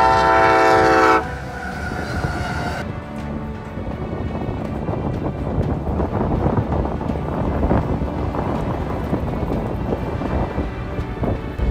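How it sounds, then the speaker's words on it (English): A train horn blasts briefly, then a long, loud rumble of rail cars rolling past steadily and close. "at least I intercepted a train"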